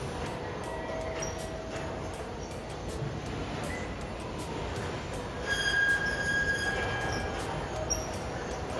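A Japanese passenger train, a JNR-type 113 series, pulls out of Kyoto Station, a soft steady rolling rumble with faint metallic wheel squeals and high tones building toward the end, heard at a distance.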